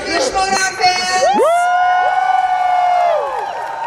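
Live audience at a Movie Trivia Schmoedown event cheering and whooping loudly, a crowd roar with a sustained shout rising over it, close and continuous throughout.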